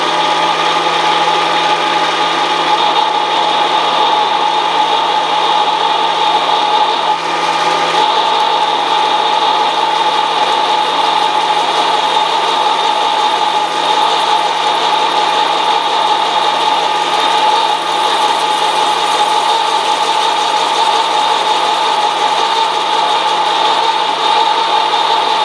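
A milling machine cuts a Lexan plate while fed down slowly by hand wheel, a loud steady whining hum of motor and cutter that holds nearly constant for the whole stretch, with no talking.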